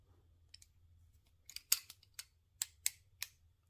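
Ratcheting hose clamp pliers give a series of sharp, close, crisp clicks, about eight in an uneven rhythm with short gaps, heard alone in a quiet room.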